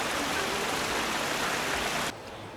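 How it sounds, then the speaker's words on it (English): Steady, dense rushing of a waterfall at Capilano Suspension Bridge Park fills the short stretch and then drops slightly quieter near the end. "There's another pretty waterfall section."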